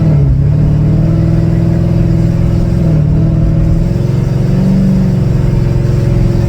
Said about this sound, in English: I found that the person next to me think I'm trying to race, like I'm revving, like right now.